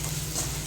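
Ridge gourd masala fries and is stirred in a pan over a low flame, giving a steady close sizzle with soft scraping throughout.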